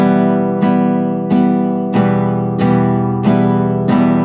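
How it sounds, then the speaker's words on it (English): Acoustic guitar strumming one chord in a steady pattern, six bright strokes about two-thirds of a second apart, each ringing into the next, played close and loud with no voices. "Now we can try to play this chord with the first strumming pattern."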